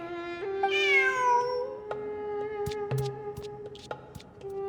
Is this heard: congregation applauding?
no